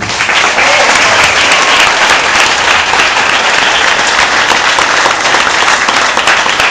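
Loud, sustained applause from a church congregation fills the whole stretch, a dense steady wash of clapping with a cheering edge and no pauses.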